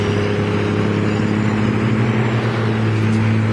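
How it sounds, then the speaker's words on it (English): Steady road traffic with a continuous engine drone and low hum, a vehicle seeming to idle or rev nearby throughout, with no talking. "Sorry for all the traffic."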